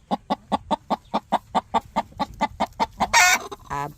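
A broody hen gives a rapid, even series of about fifteen close clucks, ending in a louder squawk and a short flurry of noise.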